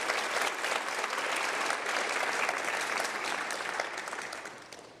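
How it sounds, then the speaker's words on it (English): A room full of guests at a Rotary scholarship night gives steady, dense applause for scholarship counselors and assistants, loud and sustained throughout before tapering slightly near the end. "So one more round of applause for all these counselors and the assistants that provide."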